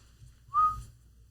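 A single short whistled note from a person, rising slightly then held for about a quarter second, clear and fairly close over a quiet low background hum.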